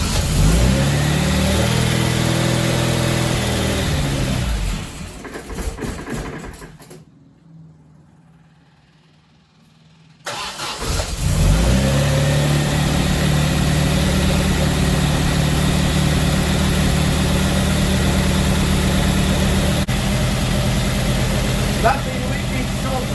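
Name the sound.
MGB classic car engine running and revving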